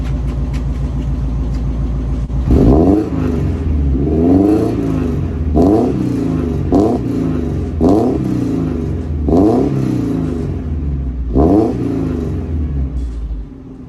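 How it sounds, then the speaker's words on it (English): An NA Mazda Miata fitted with an ISR Performance Circuit Spec exhaust and UEL headers idles loudly up close, then is revved in a series of sharp blips that rise and fall back to a rumbling idle, with no talking. "we're gonna do a little exhaust test so you can hear how it sounds"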